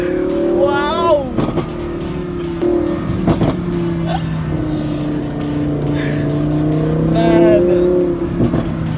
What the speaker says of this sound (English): I can't even put the words how loud this car sounds